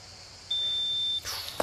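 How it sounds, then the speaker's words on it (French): A one-minute timer at a pétanque match gives a single steady high-pitched electronic beep lasting under a second, clear and fairly loud, followed by a brief burst of crowd and ambient noise with a sharp click. "il y a le bip de la minute là qui a retenti"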